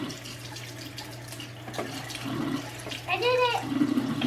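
Tap water running into a sink while a bowl is washed, a steady splashing flow with brief clinks and a voice chiming in now and then, close by.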